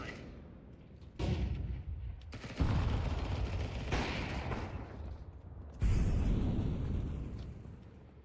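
Gunfire in a shooter video game with rooftop fighting, with several loud, sharp bursts and sustained rumbling volleys across the clip, heavy and close, while no one talks.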